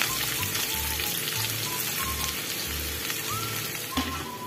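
Chopped onions frying in hot oil in a pot for chicken biryani, a steady close crackling sizzle running without pause, with faint low kitchen rumble beneath.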